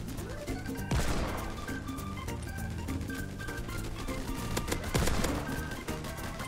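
Royal Blunderbuss firing in a Roblox base battle game, loud booming blasts with two big hits standing out amid rapid crashing gunfire and explosions, a chaotic barrage throughout.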